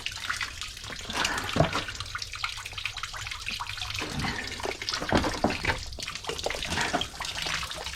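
Sewer water gushes and splashes out of a freshly unclogged drain, a steady loud rushing flow with churning, gurgling surges close by and no talking.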